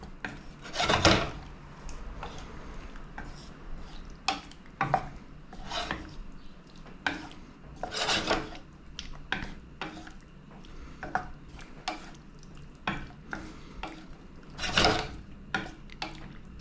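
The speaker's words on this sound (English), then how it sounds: "Get it all nice and mixed in." Pasta carbonara is stirred in a pan with scraping, rubbing strokes and occasional clanks of utensil against the pan, irregular and close up, with no talking.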